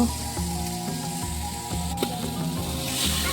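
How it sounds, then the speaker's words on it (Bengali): Tomato frying in a pan and being stirred, a close, low sizzle with repeated scraping strokes against a steady background hum. "এখানে টমেটোটি দিয়ে একটু নাড়াচাড়া দিয়া"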